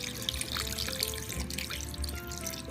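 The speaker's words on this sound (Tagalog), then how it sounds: "Dagdagan ko din ng tubig, konti lang." Water pours and trickles steadily into a cooking pot of pineapple chicken with pineapple juice, a continuous splashing flow over a low background hum, with no talking.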